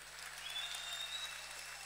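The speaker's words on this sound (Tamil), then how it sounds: "நல்லா கைதட்டுறீங்க." Applause from an audience at a political speech, a steady wash of clapping heard faint and distant, with no voices over it.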